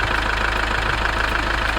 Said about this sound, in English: yeah, I'm gonna let the engine run and check if everything seems to be fine.